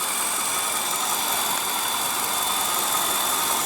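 A 2015 Nissan Altima's 2.5 L four-cylinder engine idling, a steady, even drone with a faint whine, heard close with no talking.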